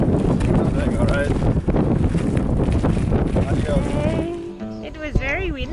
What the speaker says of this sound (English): It was very windy. It was very, very windy.